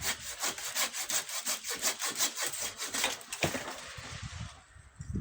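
A hand saw cuts through a cherry tree branch during winter pruning, with a fast, rhythmic back-and-forth rasp of many strokes close by, slowing and fading to a few quieter scrapes near the end.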